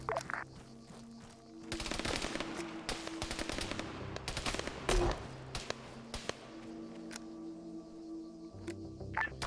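Gunfire crackles through a military video game firefight as squads catch each other in crossfire, with bursts of automatic fire and scattered single shots, some close and sharp, others more distant, over a steady background hum.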